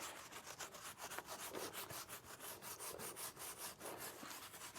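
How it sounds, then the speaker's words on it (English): Hard brush scrubbing a wheel rim with cleaner, quick rhythmic back-and-forth rasping strokes, close and fairly quiet, repeating steadily with no talk. "Do a nice little scrubbing."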